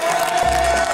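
A group cheering and clapping for themselves, a loud burst of applause and excited crowd noise filling the brief moment.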